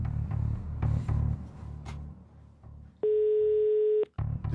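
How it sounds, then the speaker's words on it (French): An outgoing call on a live Tahitian radio-TV prize draw rings once, a single steady electronic ring tone lasting about a second over a low background bed, with no talk. "Deuxième sonnerie."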